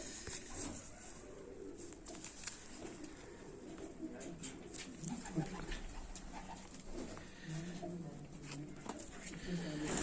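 Champion golden racing pigeons cooing softly amid other birds, a continuous low murmur of calls with people talking over it.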